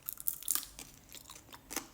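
Someone bites into and chews Babybel cheese tanghulu with a candied sugar coating, soft close crunches and moist chewing sounds repeating quietly over a short moment, with no talking.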